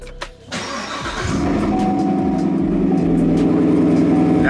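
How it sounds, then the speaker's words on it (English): A C7 Corvette Grand Sport's engine cranks briefly at Sears Point Sonoma Raceway on a track day, catches with a loud burst, then settles into a steady, rumbling idle that stays strong and close to the end. "I gotta start the engine again"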